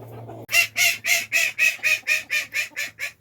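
Chickens in a covered run with a heat source sound off in a rapid, even series of about eleven loud, close, squawking calls after a brief low hum at the start.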